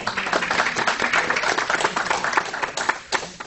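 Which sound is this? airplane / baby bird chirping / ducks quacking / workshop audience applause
workshop audience applause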